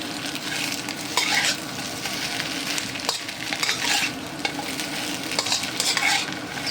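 Fried chicken wings are stirred in a sizzling pan as part of a chicken dish with salted eggs: a steady frying hiss runs throughout, broken by repeated scraping and clinking strokes of the utensil.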